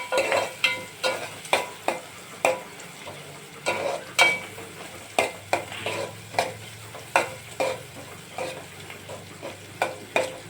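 Onion frying in a pan for a brinjal and tomato curry, a steady sizzle broken by regular scraping stirs of a spatula, roughly two per second, close and fairly loud.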